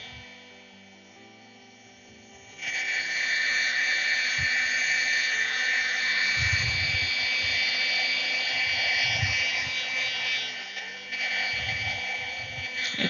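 A heat tool switches on after a quiet moment and blows a steady, high-pitched whirring hiss while drying paint on small painted Sakura blossom art cards, with a few low handling bumps underneath.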